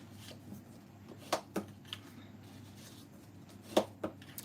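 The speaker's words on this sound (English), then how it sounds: "I'm going to fold and burnish all those." Paper pieces being folded and burnished by hand, heard as a few quiet, separate rubbing and sliding swipes with a crisp papery edge, spaced apart over a low, steady room background.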